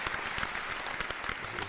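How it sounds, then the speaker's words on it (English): Steady applause from a podcast audience fills the whole short stretch, dense overlapping claps at close range with no talk over them. "Round of applause one time, man."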